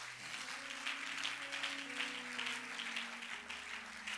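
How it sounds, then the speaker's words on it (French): A church congregation applauding, steady dense clapping at moderate level over a held organ or keyboard tone, continuing throughout with no speech. "J'acclame pour le Seigneur bien-aimé."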